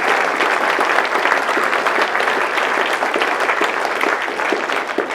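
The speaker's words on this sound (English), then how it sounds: "let's give everybody an amazing round of applause" A town hall audience applauds continuously, dense, loud clapping that holds steady for several seconds without a break.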